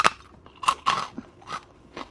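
Crunchy strawberry snack being bitten and chewed up close: about five or six sharp, dry crunches in an uneven rhythm, each a brittle crackle separated by brief quiet pauses, with no talking.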